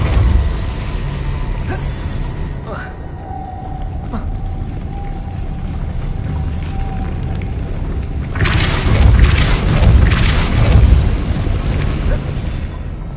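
Depulso spell effects in the Hogwarts Legacy video game sound as deep booming blasts over low game ambience, with a louder burst of rumbling impacts in the latter part of the sequence.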